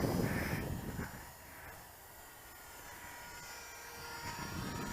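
A Jasco Spotter radio-controlled biplane flies overhead, its small engine giving a thin, buzzing drone that fades and swells with distance, loudest at the start and end, with no voices.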